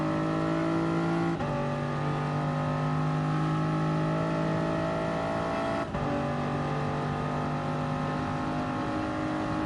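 LMP prototype race cars in a racing video game at the French GP, a steady loud engine whine with sustained harmonic tones and two abrupt gear-change pitch drops, with no voices.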